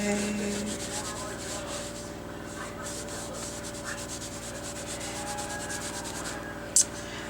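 Repeated rubbing strokes of a wipe across the painted edges of an art journal page, a rhythmic scuffing pulse that continues steadily with one brief sharp tap near the end, close and moderately loud.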